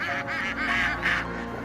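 Ducks on a Tamil Nadu duck farm give repeated nasal honking quacks. The overlapping calls come from a close flock and run steadily without pause.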